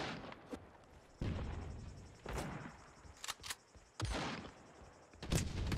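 A Nova pump shotgun in a video game fires several single blasts spaced about a second apart, each a sharp loud crack with a short tail, with quieter game noise between shots.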